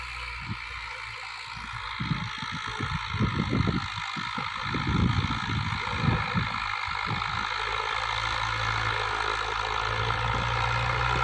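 A New Holland Dabang 85 tractor pulls an 18-disc harrow through a field, its engine holding a steady mid-pitched drone while heavier irregular rumbles and knocks surge in the middle stretch, with no talking.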